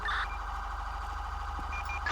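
A car alarm blares in Grand Theft Auto V during police gameplay at a racetrack, a loud continuous pulsing electronic wail with a low engine-like hum beneath and no talk.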